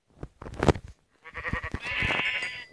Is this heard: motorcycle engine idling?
no